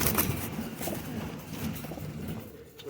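Pigeons kept for crossbreeding coo softly in a loft, with low, throaty calls that overlap against a busy, noisy background.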